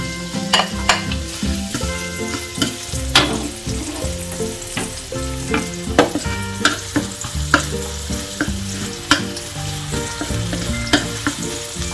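Onion and garlic sautéing in a pan while kare-kare is cooked, a steady loud sizzle broken by repeated sharp clanks and scrapes of a utensil stirring, with no voices.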